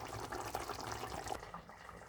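Dried fish curry with potato and eggplant is poured from the pan into a serving bowl, a soft, close, wet pouring and slopping sound with faint dribbles, quiet and unbroken by speech.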